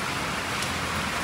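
Rain falling outdoors around a car bodywork dent-pulling job, a dense, even hiss of steady rainfall filling the whole moment, close and fairly loud with no voices.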